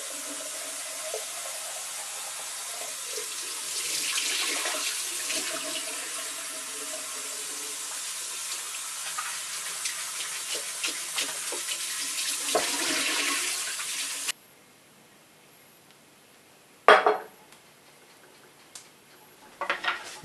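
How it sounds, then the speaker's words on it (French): Tap water runs steadily into a sink to rinse homemade butter for about fourteen seconds, then stops, followed by a few brief splashes and handling sounds. "On rince le beurre à l'eau claire."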